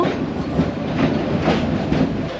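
A local train on the Dhaka to Narayanganj line arrives at Narayanganj station, with a soft, continuous rumble and a rhythmic clickety-clack of wheels over rail joints, heard from inside.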